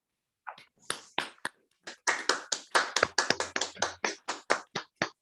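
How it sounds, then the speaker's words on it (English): Scattered claps for a project award winner at an online blockchain development event in Africa, about twenty sharp, uneven hits spread over several seconds rather than a dense ovation. "let's give him a real big round of applause"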